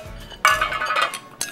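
Tin plates clink and clatter together while ceviche and fried shrimp are served, several close, bright metallic knocks in a quick burst with a final clink after a pause.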